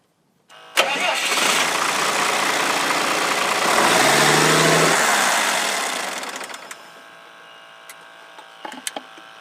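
Diesel engine running loud and steady, then stalled by blocking its air intake with a flat, clean piece of plywood; the broadband roar swells briefly, then drops away over a few seconds, leaving faint clicks and knocks.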